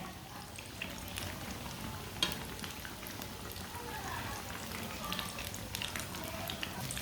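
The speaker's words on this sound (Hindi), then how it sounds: "एक मिनट तक एक साइड से पका लिया मैंने। अब इसे उल्टा लेते हैं।" A cheese sandwich frying in a pan gives a soft, steady sizzle and crackle close by, with a faint clink partway through and no talking.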